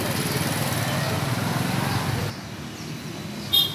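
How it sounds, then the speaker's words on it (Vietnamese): A GB MD35 magnetic drill runs loud and steady, a dense continuous motor whine and drilling roar that cuts off abruptly partway through, leaving quieter background noise and a brief sharp knock near the end. "cuối cùng mình sẽ khoan máy GB35 à."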